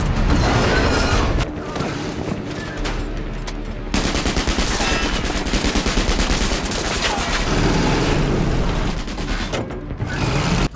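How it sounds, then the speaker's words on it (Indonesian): A dense, loud barrage of gunfire erupts during a tank confrontation in an action film, mixed with heavy booms and mechanical clatter. It runs continuously for about ten seconds. "Tank berhenti. Wolf naik dan menembak."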